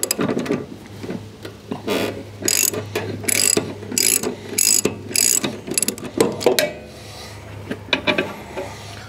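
A ratchet socket wrench loosening a plastic RV drain plug, giving repeated short bursts of crisp clicking in uneven strokes, close and fairly loud, with quiet gaps between.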